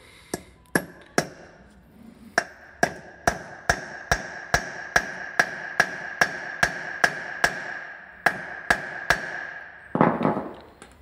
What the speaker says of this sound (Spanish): Vamos a dar con el martillo, clavarlo.